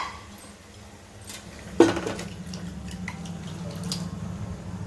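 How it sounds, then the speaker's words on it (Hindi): Marinated chicken liver dropped into a pan of lightly fried onions, giving a sudden wet splat followed by a soft, steady sizzle that continues to the end. "जो कलेजी को मैरिनेट करके रखा था उसको भी डाल दे रही हूँ"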